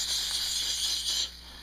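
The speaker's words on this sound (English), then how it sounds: "Hot. Very hot. You can hear it sizzling." Hot roasted homegrown organic tomatoes sizzle in a pan, giving a steady close hiss that holds for over a second, then drops off slightly near the end.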